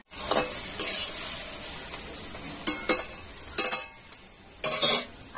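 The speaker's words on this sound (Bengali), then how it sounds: "এবার আমি ঢাকা খুলে একবার নেড়ে দেবো।" Vegetables frying in a covered pan for homemade fried rice, sizzling steadily up close as a utensil stirs and scrapes the pan in several brief knocking bursts.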